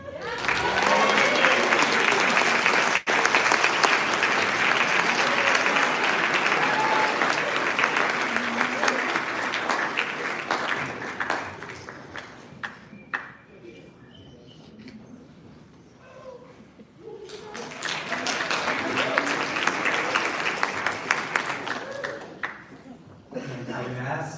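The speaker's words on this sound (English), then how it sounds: "applause" Audience applause at a school underclass awards ceremony, a long loud wash of many hands clapping that fades, drops to near quiet, then swells again into a second strong round before tapering.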